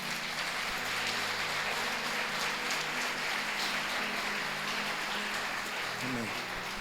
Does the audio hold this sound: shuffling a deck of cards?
no